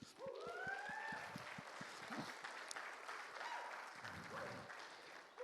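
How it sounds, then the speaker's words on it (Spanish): Quiet applause for Oscar during a church prayer gathering, scattered claps under a speaking voice, faint and distant. "un aplauso para Oscar"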